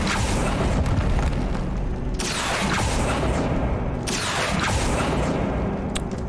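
Repeated spell blasts from the Bombarda charm in Hogwarts Legacy go off at about two-second intervals. Each lands as a loud, sharp burst that falls away into a rumbling tail over a constant background roar.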